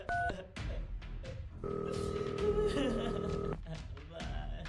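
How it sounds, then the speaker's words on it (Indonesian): Telephone dialing: a quick series of short tones early on, then a sustained ringback tone, with faint taps and a voice around it. "Gue telepon Bintang dulu."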